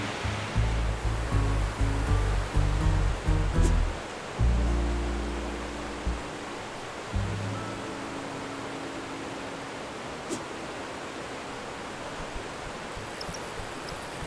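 Rushing waterfall on a Hudson Valley trout stream, a steady broadband roar close by that holds through the whole stretch, with a few low thumps and handling knocks early on and no talk.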